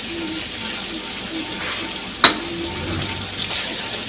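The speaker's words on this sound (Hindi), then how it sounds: "अब इसमें जो काटा हुआ प्याज है वो डाल रही हूँ, और साथ ही टमाटर डाल रही हूँ" Chopped onion, tomato and spices go into a hot pan for Sahrai chicken, giving a soft, steady sizzle with a single sharp clink of utensil partway through and faint stirring noises.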